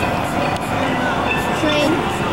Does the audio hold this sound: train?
yes